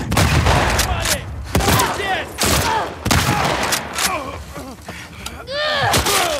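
Gunfire erupts in The Last of Us Part II, a cluster of sharp, loud shots and thuds in quick bursts, with agitated voices shouting in between.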